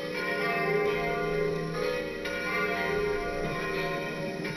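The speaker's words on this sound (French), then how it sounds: "la cloche la plus petite, la cloche 5 à Saint-Vincent sur ce site, c'est pas une cloche de Saint-Vincent" Smallest church bell, bell 5, sounding a bright metallic strike that rings on with shimmering overtones and a slow decaying hum, heard close and clear with no talk.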